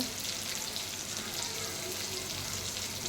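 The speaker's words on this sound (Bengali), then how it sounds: "তারপরে টমেটো দিয়ে দেবো। পেঁয়াজ টমেটোটা ভালো করে নাড়াচাড়া করে নেব।" Onion and tomato fry in a pan while being stirred, giving a steady, close, continuous sizzle with soft scraping throughout and no talking.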